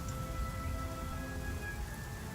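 Steady rain falls throughout a video game scene, a dense even hiss with faint tonal ambience beneath and no talking.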